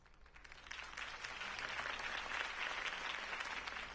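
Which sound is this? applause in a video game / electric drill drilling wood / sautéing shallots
applause in a video game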